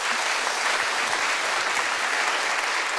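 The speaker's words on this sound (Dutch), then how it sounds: "Ook voor hen graag een huid, luid applaus." Loud, sustained applause from a large lecture audience fills the whole stretch, a dense steady clatter of many hands clapping.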